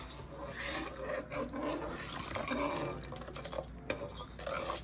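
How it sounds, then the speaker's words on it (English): A spoon stirs and scrapes through potassium sulfate solution in a glass container while mixing up a crystal-growing batch, with a continuous close raspy swishing and occasional clinks. "Stir up the potassium sulfate"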